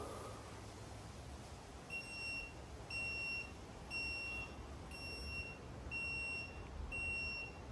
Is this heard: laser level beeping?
yes